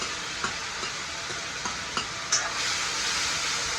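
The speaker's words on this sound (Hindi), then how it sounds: "स्वाद अनुसार मसाले जाते हुए तड़के में।" Spices crackling and sizzling in hot oil for a tadka, a steady frying hiss punctuated by several sharp pops and stirring clicks, close up.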